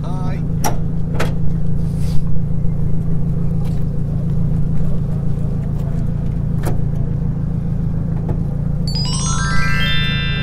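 A Nissan SB22 diesel engine in a 1979 Nissan Gloria 220D idles with a steady low clatter in an open engine bay, close and continuous, with a few short knocks and a brief high electronic sweep near the end.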